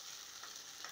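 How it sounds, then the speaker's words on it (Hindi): An onion, garlic and ginger paste with spices fries in a pan over medium-high flame, a faint steady sizzle with two soft scraping stirs of a spoon. "ये देखिए 2 मिनट हो चुके हैं मसालों को फ्राई करते हुए, लगातार मैं इसे चला रही हूँ।"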